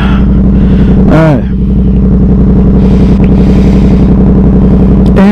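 A Yamaha R7 sport bike rumbles loudly up close while its throttle is blipped during a wheelie attempt, with a short rising and falling rev early on over a steady, heavy engine drone.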